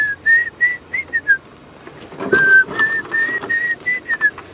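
A person whistles a series of short, rising bird-like notes in two bursts, imitating a Diederik cuckoo's call, close and clear with quiet gaps, on a sunset safari drive.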